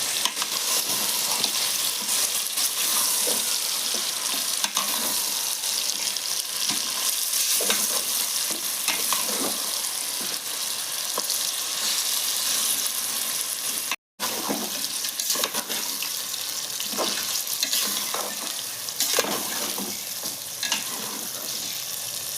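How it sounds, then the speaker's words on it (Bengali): Ginger, garlic and onion frying in a pan for chicken biryani, giving a steady, close sizzle with occasional stirring scrapes and a brief break partway through; no one talks. "আদা রসুন পেঁয়াজ খুব ভালো করে ভাজা হয়ে গেছে। এখন আমি দিয়ে দেবো চিকেন।"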